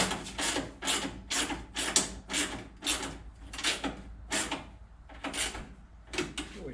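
A hand ratchet clicks rapidly and close up in repeated bursts while tightening headlight bolts on a Datsun 521 truck, the rhythmic strokes continuing with no talk.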